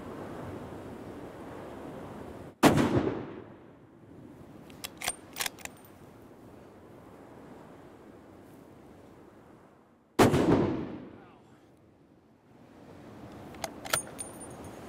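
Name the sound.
rifle shot at Alaskan bear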